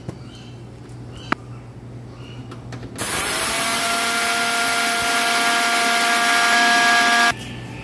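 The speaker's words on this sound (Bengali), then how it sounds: "যে গোবিন্দভোগ চালটা ভেজে নিচ্ছি, চালটা আমি এখন মিক্সিতে গুঁড়ো করে নিচ্ছি।" An electric mixer grinder grinds roasted gobindobhog rice into powder. After a quiet stretch with a single click, the motor switches on with a loud, steady high whine and stops abruptly about four seconds later, close up.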